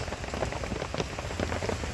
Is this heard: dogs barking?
no